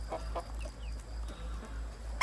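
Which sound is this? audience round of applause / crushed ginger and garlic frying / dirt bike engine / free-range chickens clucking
free-range chickens clucking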